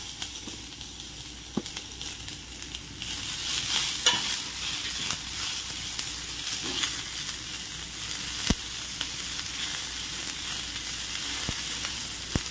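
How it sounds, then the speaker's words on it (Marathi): Tomatoes are added to browned onion and grated coconut in a pan and sautéed until soft. The oil gives a steady, close sizzle, broken by occasional sharp clicks and scrapes of a spatula against the pan. "थोडेसे टोमॅटो मऊ होईपर्यंत आपल्याला फक्त परतून घ्यायचं आहे।"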